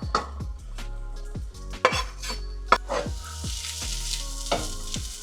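Vegetables and onions sizzling in hot oil on a griddle or pan for cheesesteaks, a steady close fry with repeated metal utensil scrapes and clanks, no talking.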